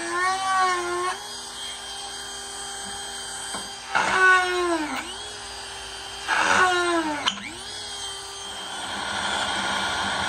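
A power drill whines at high speed drilling into the metal frame of a paramotor, biting in short bursts with rising and falling pitch, pausing between pushes.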